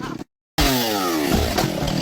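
Chainsaw with a dull chain, a loud close buzzing engine that cuts out briefly, then restarts and revs in rising and falling pitch sweeps.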